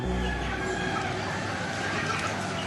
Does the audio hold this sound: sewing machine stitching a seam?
no